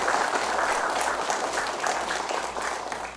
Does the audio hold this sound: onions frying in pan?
no